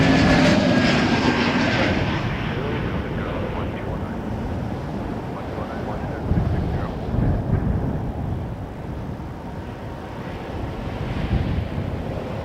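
An Air Transat Airbus A321neo arriving at Toronto Pearson from Lima, Peru, roars loudly at first, then its broad engine rumble fades steadily as it passes, with wind buffeting the microphone.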